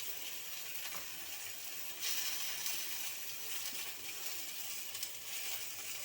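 Taro corms fry with cumin paste in a pan, giving a steady, moderately loud sizzle with faint stirring scrapes and a few small clicks, and no talking.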